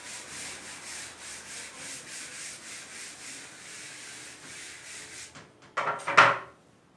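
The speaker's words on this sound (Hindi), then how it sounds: "बाकी ये सब मैं रब कर दूंगा" Steady back-and-forth rubbing of an eraser or duster wiping writing off a classroom board, quiet and close, followed by a couple of sharper knocks and scrapes near the end.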